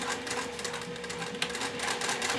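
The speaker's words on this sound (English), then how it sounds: "I have it centered right on the zipper teeth, and I'm just going to sew across a few times to have this connected." A sewing machine basting back and forth across zipper teeth on a boxy cosmetic bag, giving a quiet, rapid mechanical chatter that holds steady for a couple of seconds with one small knock midway.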